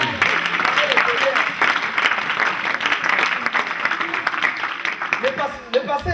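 A church congregation applauds through a sustained, dense burst of clapping at steady loudness, with voices mixed into the crowd noise.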